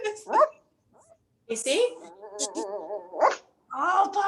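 Puppy barking, whimpering and growling in short bursts at close range, trading off with a person's speech in a home setting.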